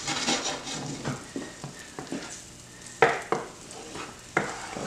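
Butter melts in a pan with cooked shepherd's pie filling while a utensil stirs and scrapes. Irregular scrapes and a few sharper knocks sit over a soft, close sizzle.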